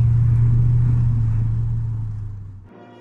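A white Chevrolet Corvette C4 engine runs with a deep, steady, loud rumble that fades over a few seconds and drops off sharply near the end, with no one talking.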